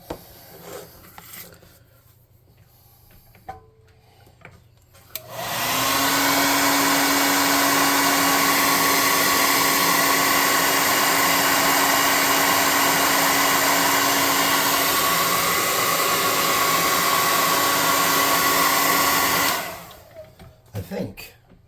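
A hair dryer drying fresh paint on a miniature mech model for a tabletop game switches on and blows a steady, loud whooshing hum for about fourteen seconds before cutting off, with faint handling noises before and after.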